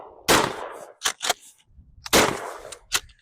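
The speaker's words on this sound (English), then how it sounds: "Oh, let's keep shooting for fun." Shotgun blasts at a pumpkin set on cinder blocks, two loud, close booming shots about two seconds apart, each followed by sharp clacks and rattles, with no talk.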